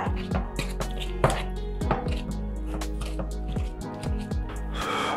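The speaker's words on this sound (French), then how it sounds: "On va mélanger le tout." Pancake batter with mashed banana gets stirred in a bowl, producing a quick, rhythmic run of close tapping and knocking strikes from the utensil hitting the bowl, steady and fairly loud.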